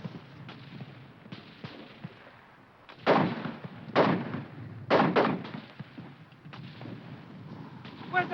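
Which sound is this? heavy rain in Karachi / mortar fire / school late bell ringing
mortar fire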